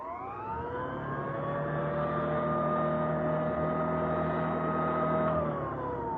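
An old-style vacuum sweeper idles in one place, giving a steady loud motor hum with stable harmonic whine that holds evenly throughout, with no voices.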